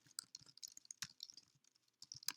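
Typing on a computer keyboard, a quick irregular run of close, crisp key clicks with short pauses between bursts.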